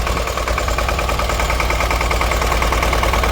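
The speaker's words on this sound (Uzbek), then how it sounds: "Ana shu mini traktorimiz, ko'rishingiz mumkin" A mini tractor engine runs close and loud with a steady, rapid mechanical chugging and vibrating rumble, unbroken and with no voices.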